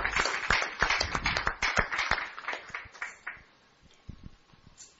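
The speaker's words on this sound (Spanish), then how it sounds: "Strong applause to the Lord" A church congregation claps together in fast, dense applause, fairly loud and close, tapering off into a few scattered claps.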